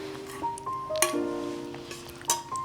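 A glass of water clinks in a household during a family scene. A handful of separate bright clinks sound close by, each leaving a short ringing tone in a quiet room.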